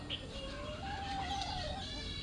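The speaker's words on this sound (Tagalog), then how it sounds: "Ayan yung ating mga alagang manok." Chickens cluck and call close by over a steady wash of background noise.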